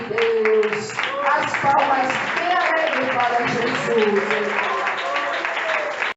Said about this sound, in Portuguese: As palmas bem alegres